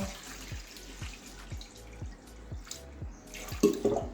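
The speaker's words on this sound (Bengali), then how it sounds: "এবারে জল দিয়ে ডালটা সিদ্ধ করে নেব" Water poured from a tap into a pot of washed mung dal, with regular dripping pulses about twice a second and a fuller splashing gush near the end, no talk.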